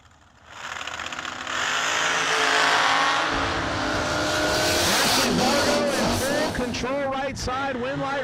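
The E&E Trucking blower dragster from Ohio launches at a New Year Nationals drag race, with a sudden deafening engine roar that holds loud and close for several seconds and crackles as it pulls away, while an announcer talks over it.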